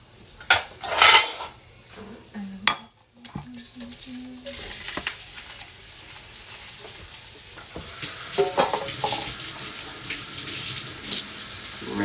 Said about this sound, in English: only leave a little bit of oil in the pan just to fry the onion and garlic